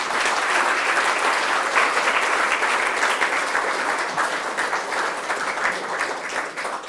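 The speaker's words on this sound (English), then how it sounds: "can we give them all a massive round of applause?" Loud, sustained applause fills the hall at the Palestine Book Awards evening as the audience claps for the judges and authors, a thick continuous roar of hands that eases slightly toward the end.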